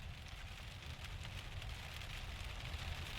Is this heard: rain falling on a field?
yes